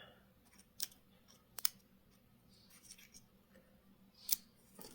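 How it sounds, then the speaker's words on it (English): A few quick snips of scissors trimming paper, soft and close, spaced out against a quiet background. "pull out your scissors and you can just trim that off"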